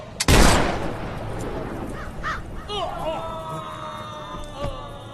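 Gunfire in a Telugu action thriller film, one loud close gunshot bang near the start that trails off, followed by voices and a faint later crack.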